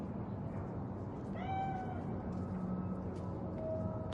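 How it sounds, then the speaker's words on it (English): A cat meows in the video game Cyberpunk 2077, a single drawn-out, wavering meow in the middle, moderately close, over a constant low rumble of city ambience. "Chill, just a cat."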